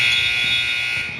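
A basketball game clock buzzer sounds at a 12U youth game to end the quarter: one loud, steady electronic tone that holds for over a second and fades slightly toward the end.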